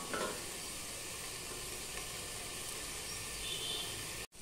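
Potatoes and onions fry in a covered pan with a steady, close hiss and sizzle that runs throughout, then cuts off abruptly at the end.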